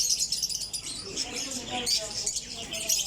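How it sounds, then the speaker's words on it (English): Many small birds chirp and tweet at the Souq Waqif birds market in Doha, high busy twittering that fills the space, with someone speaking over it. "Look at the beautiful birds."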